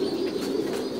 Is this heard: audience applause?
no